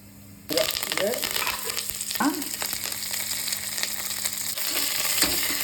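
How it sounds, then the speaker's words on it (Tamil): Fennel seeds crackle and sizzle as they fry in hot oil, starting abruptly after a brief quiet moment and continuing steadily with scattered pops and hisses. "எண்ணெய் காஞ்சிருச்சு. சோம்பு 1 ஸ்பூன் போட்டுட்டேன்."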